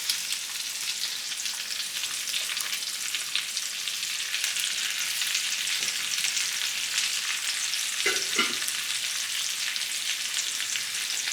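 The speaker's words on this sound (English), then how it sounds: "right now I got some butter in the pot right there melting" Drained potatoes go into a pot of melting butter for a ground beef and potato casserole, setting off a steady, close frying sizzle throughout with a brief knock of the pot near the end, no voices.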